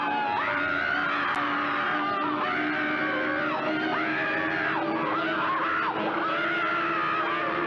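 A cartoon dog and Bugs Bunny scream in terror while falling, loud sustained wailing yells that rise and fall in repeated waves, one after another, with no pause.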